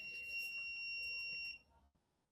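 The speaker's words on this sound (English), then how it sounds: "As you can hear the buzzer alarm" A real-time smoke monitoring system's buzzer alarm sounds as one steady high-pitched electronic tone, close and clear, for about a second and a half before cutting off into quiet.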